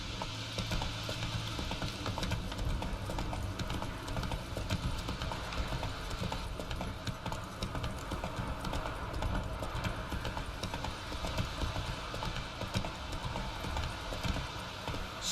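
Horse hooves clip-clop at a steady rhythmic gait while riding in The Witcher, a continuous loud clatter with faint mechanical creaks and no speech.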